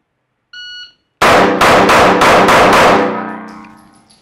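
A timer beep comes first, then six rapid, loud, sharp pistol shots fired in quick succession during a shooting skill drill, each crack close and ringing out with no talking.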